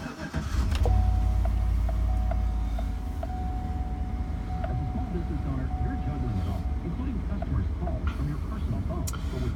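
A 2013 Chevrolet Avalanche truck engine cranks and fires up near the start, then settles into a loud, steady idle rumble close by for the rest of the clip.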